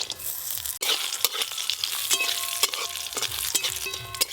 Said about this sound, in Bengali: ঘি দিয়ে একটু ভালো করে ভেজে নেব